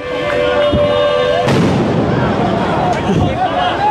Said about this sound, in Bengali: এই মুহূর্তে সাউন্ড গ্রেনেড কিন্তু নিক্ষেপ করা হয়েছে